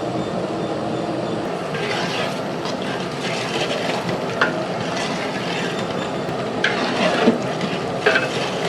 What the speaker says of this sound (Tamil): நல்லா நம்ம கைவிடாமல் கிளறி விட்டுருக்கோம்